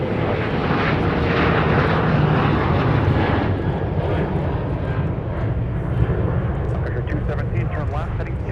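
A Sun Country airliner bound for Tampa roars down the runway on takeoff at Minneapolis–St. Paul airport, a loud, steady broadband jet rumble that holds throughout.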